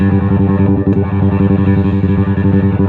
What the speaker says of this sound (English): You hear it sweep through to high.